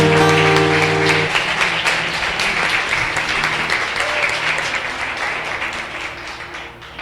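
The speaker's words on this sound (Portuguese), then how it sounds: "Aplaude a Ele" Church congregation applauding during a Brazilian evangelical service, a dense steady wash of many hands clapping that starts over a fading sustained tone and tapers gradually toward the end.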